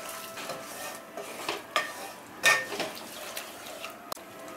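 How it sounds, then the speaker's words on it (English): Kadai paneer being stirred in a pan after garam masala and crushed kasuri methi go in, giving soft scraping and clinks of a utensil against the pan with a few sharper knocks, fairly quiet and close, no talk. "Mix it well."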